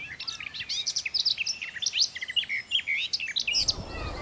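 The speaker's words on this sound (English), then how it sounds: "This garden warbler is singing for a mate." Garden warbler singing on the Isle of Eigg, Scotland: a rapid, continuous run of bright warbling phrases, close and clear, ending in a brief rustle.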